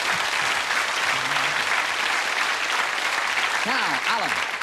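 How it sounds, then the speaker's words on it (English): A studio audience at a magic show applauds a volunteer. Dense, steady clapping fills the room, with a voice briefly audible under the ovation. "We'll have a nice round of applause for a volunteer."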